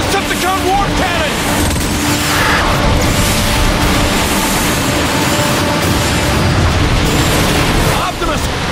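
Dense, loud barrage of booming cannon blasts and explosions from the Decepticon War Cannon in the video game Transformers: Fall of Cybertron, rumbling continuously, with mechanical clatter and voices mixed into the chaos.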